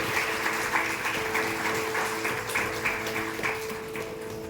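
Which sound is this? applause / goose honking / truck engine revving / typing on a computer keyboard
applause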